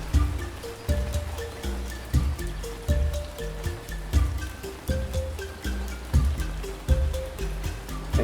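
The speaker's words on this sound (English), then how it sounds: "Especially when it's raining." Rain falling in the Ancient Cities video game, a steady watery patter with trickling drops, accompanied by a repeating musical pulse and tones throughout.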